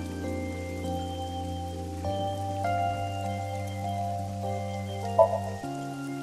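Rain falls in the video game AI: The Somnium Files as a steady, soft hiss that runs beneath sustained background music for the whole stretch, with no one talking.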